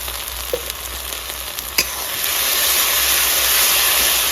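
Ginger-garlic paste hits a pan of onions already fried red, bringing a steady close-up sizzle that swells into a louder, fuller hiss partway through, with a few soft stirring knocks and no voices.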